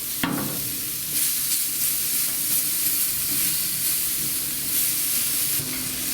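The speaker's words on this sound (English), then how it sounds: "And this is going straight on the barbecue. Start that cooking." Thin slices sizzle steadily on a barbecue grill, a loud close hiss that runs on without a break after a brief clatter at the start, with no one talking.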